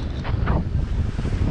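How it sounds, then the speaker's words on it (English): Strong wind roars steadily over open water from a sailboat in stormy seas, with a gust building and buffeting the microphone, dense low rumble and surf-like wash throughout, close and loud with no voices. "There's a gust."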